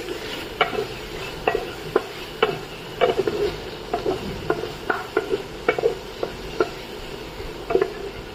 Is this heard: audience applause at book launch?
no